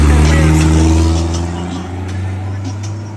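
A turbocharged car drives past in a parking lot in Puerto Rico, its engine a loud, steady rumble that gradually eases as it moves on.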